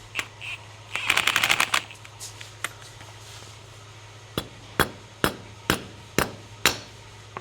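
Hammer blows ring out as a lug nut is driven onto an ARP wheel stud during a Nissan 350Z hub and axle swap: a quick flurry of strikes early on, then about seven sharp, evenly spaced metallic hits, close and fairly loud.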